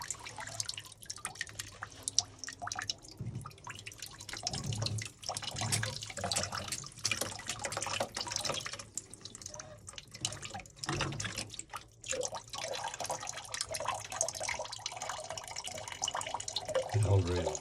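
Water drains from a loosened plumbing valve at a camp during winterizing, a steady splashing, trickling flow with dripping, continuous and fairly close throughout.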